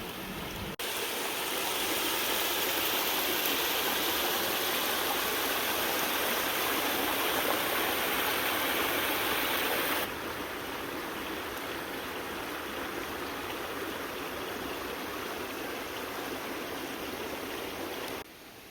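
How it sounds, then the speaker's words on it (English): Steady, full rushing of winter creek water where three creeks join in off-grid wilderness land, a continuous close wash of flow that dips slightly in level partway through and carries on alone. "this is actually where 3 creeks meet up and they're all flowing west from here"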